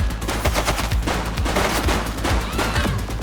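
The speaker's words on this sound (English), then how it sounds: "She's shooting!" Gunshots in The Precinct police game during a street shootout, with loud bursts of rapid automatic fire and sharp individual cracks packed closely together and overlapping.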